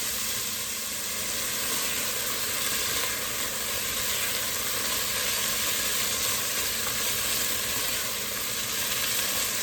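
Chicken pot pie filling, chicken seasoned with salt and pepper, cooks in a pan with a loud, close, unbroken hissing sizzle that stays even throughout, with no voices.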